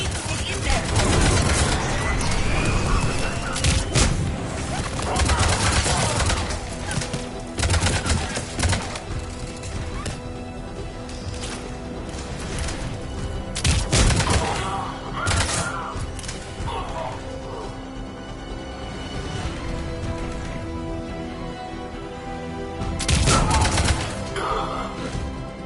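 Mass Effect 3 combat rumbles on at a checkpoint firefight, with repeated sharp gunshot bursts and impacts over a dense, steady battle din, while voices speak now and then.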